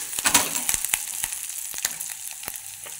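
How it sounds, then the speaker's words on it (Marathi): Chopped onion and curry leaves sauté in a hot pan for a village-style green tomato chutney, a soft steady sizzle broken by scattered sharp scrapes and clicks of a spoon stirring, close and fairly quiet, with no voices. "छान कांदा परतलेला आहे, याच्यामध्ये कढीपत्ता टाकून घ्यायचा। असा 1 मिनिटासाठी हलवायचा।"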